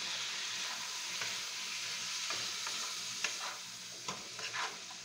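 Broccoli sautéing in garlic butter in a pan gives a steady, moderate sizzle with occasional soft clicks of stirring toward the end; no one speaks.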